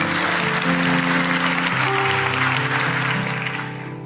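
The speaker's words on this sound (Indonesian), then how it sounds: "Kasih tepuk tangan tuh Tuhan." Congregation clapping during a church service, a dense, loud wash of applause mixed with sustained organ or keyboard tones, fading slightly at the end.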